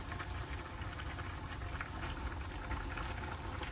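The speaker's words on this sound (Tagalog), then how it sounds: "Ilalagay na po tayo sa kawali ng oil. Ipa-fry po kasi natin to ng mag-brown lang ng kaunti yung mga pork." Pork browning in hot oil in a frying pan for estofado, giving a dense, steady, crackling bubble that stays at a constant level with no voices.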